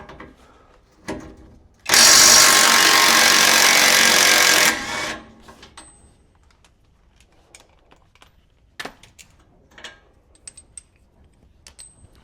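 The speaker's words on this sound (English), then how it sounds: "going with the Bauer 20 volt impact 3/8 drive" A Bauer 20 volt 3/8 drive impact wrench removes a bolt under a 2003-2008 Toyota Corolla, Matrix or Pontiac Vibe during coil over replacement, giving one loud sustained burst of about three seconds, then quiet clinks and taps.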